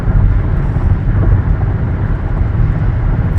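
A car cruising on a highway at about 70 mph, heard from inside as a loud, steady roar of engine, tires and wind without breaks and with no talking.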